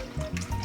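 Five cups of chicken stock pour into a medium pot, a short, steady liquid gush close by with a wet, splashing fill and no voices.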